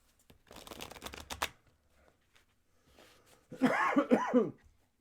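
A tarot deck being shuffled during a live card reading: about a second of quick riffling bursts, then a pause and a loud throaty cough-like sound close by.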